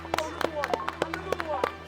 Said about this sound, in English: double clap